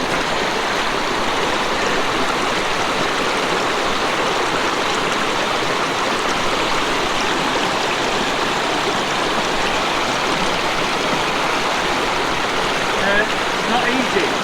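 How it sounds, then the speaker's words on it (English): Steady broadband rush of a mountain stream in the Lake District fells near Angle Tarn and Rossett Pike, continuous and fairly close, with a voice briefly over it. "I love the sound of this water."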